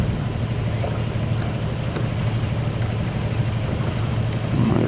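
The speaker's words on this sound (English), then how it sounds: "It is windy." Strong wind buffets a sailing yacht heading out on a summer club cruise, a steady broadband roar with low rumble and constant microphone wind noise throughout, no voices.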